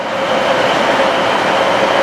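A train to Liverpool Lime Street at Stockport station gives a loud, steady rumble and drone close by, an even rolling noise with no break.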